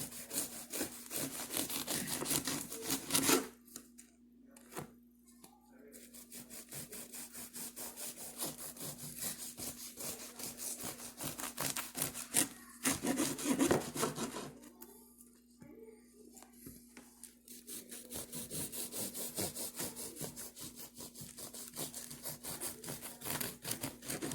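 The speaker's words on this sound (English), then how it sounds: "We're going to go ahead and slice a couple slices." A knife saws back and forth through a loaf of homemade challah bread, giving soft, rhythmic rasping strokes in two bursts with a quiet pause between, close and fairly faint.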